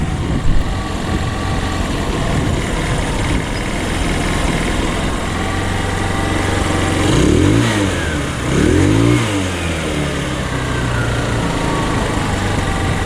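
A scooter engine runs steadily at idle on old gas, its drone loud and continuous, and it rises in two brief revs as the carburetor idle is adjusted downward before it settles again.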